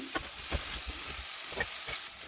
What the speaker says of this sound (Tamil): நான் தண்ணி ஊற்றலை, இந்த ஆயிலே தான் கொஞ்சம் நல்லா வதங்கணும்.